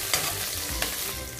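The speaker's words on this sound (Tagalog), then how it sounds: "Guys, ngayon po ay gisa na natin siya. Lagay na natin yung sibuyas." Onions hit a hot pan and sauté for fish curry, a short burst of close sizzling with stirring scrapes.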